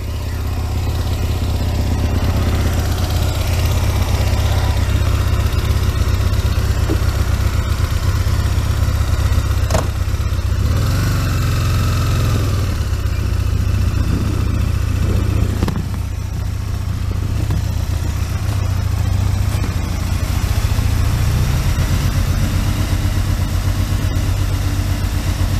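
A Kawasaki ZX12R motorcycle engine running with a worn clutch bearing, a steady loud idle with a deep rumble and brief small revs partway through, close by with no talk.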